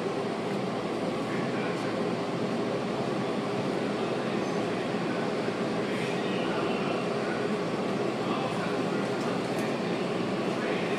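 A Breda metro railcar pulling into a station gives a steady, loud rumble with an even, droning noise from start to finish.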